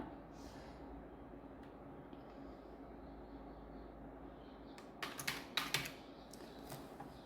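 Keys clatter on a computer keyboard during work in MS Word, a faint stretch of soft ambience followed by a short, louder burst of quick typing taps near the end.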